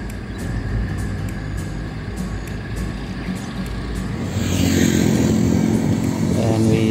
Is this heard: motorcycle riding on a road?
yes